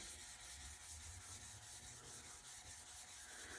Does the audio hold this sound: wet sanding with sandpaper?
yes